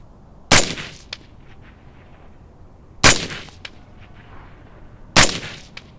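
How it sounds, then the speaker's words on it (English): Three loud, sharp rifle shots fired at a 50 yard target during zeroing for a 50/200 yard zero, spaced about two and a half seconds apart, each with a short ringing tail. "I'm actually gonna shoot 3 shots because I want a group"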